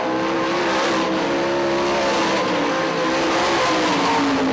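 410 sprint cars at Ionia Raceway Park, a dirt oval, roar steadily at full throttle, a loud sustained engine drone with slight pitch shifts as the pack races by, no one talking.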